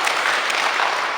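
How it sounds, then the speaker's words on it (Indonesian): Audience applause for the presenters at a school in-house teacher training session, a steady dense wash of clapping filling the whole short moment with no pauses. "bolehlah kita tepuk tangan untuk para narasumber kita"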